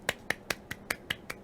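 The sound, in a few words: hand clapping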